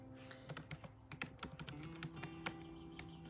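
Someone typing a link on a computer keyboard, a quick irregular run of close, soft key clicks over a faint steady background hum.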